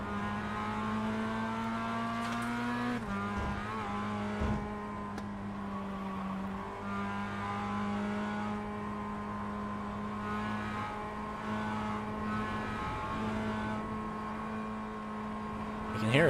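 A Mazda MX-5 Cup race car in the iRacing game hums at a steady, near-constant engine pitch, as if held in one gear. There are brief dips and shifts in tone, and the sound stays fairly faint and continuous.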